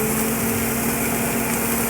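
Steady, loud whir of a kitchen exhaust hood fan running in a home kitchen, a constant drone with a faint hum underneath and no pauses.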